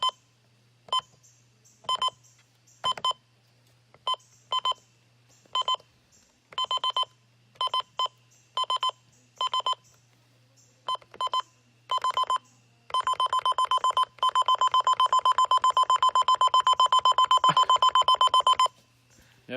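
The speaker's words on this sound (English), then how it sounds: "They're high pitched. They sound like an alarm clock." The Sima FirstAlert WX-268 radio's high-pitched button beeps chirp in rapid clusters of short electronic tones, then settle into a long, steady run of fast continuous beeping before stopping, close and clear over a faint hum.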